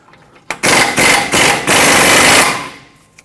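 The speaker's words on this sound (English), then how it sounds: "Let's remove the lower ball joint mounting nut." A power tool drives a 27mm socket to spin off the lower ball joint mounting nut on a 2003-2012 Chevrolet Colorado 4x4 steering knuckle, loud, close bursts of rattling with brief pauses between them.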